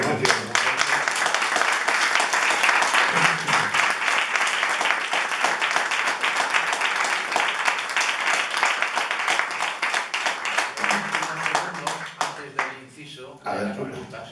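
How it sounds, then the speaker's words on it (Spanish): An audience at a book presentation claps for the author, a long steady round of applause that thins out near the end as scattered claps and a voice take over. "Vamos a dar un aplauso al autor."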